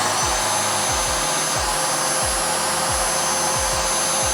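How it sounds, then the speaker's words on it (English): A cordless vacuum cleaner running on a newly swapped battery gives a loud, steady close-up whine with a rhythmic low pulsing beneath it, and no voices over it. "I switched the battery for our vacuum cleaner"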